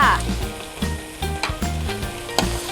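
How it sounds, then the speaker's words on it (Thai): Chicken hits hot Thai curry paste for a jungle curry with green banana and is stir-fried. Close sizzling and scraping stirs come in uneven bursts over a steady tonal hum. "ใส่เนื้อสัตว์ลงไปเลยนะคะ ใส่ลงไปเลยค่ะ"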